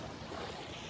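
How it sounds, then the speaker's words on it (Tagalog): Brief, moderately faint wash of river waves at high tide near a resort, a continuous rushing swell with some wind buffeting on the microphone. "So kanina walang alon siya pero ngayon meron na."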